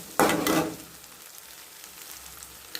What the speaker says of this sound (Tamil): இப்போ பச்சை வாடை போயிட்டு இப்போ தக்காளி சேர்த்துருவோம்